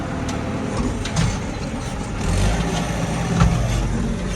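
A tractor pulls a tall, long harrow with large rollers across a corn field being prepared in Diyarbakır. Its engine drones steadily and fairly loud throughout, with a low rumble and slight surges in intensity, and no voices over it.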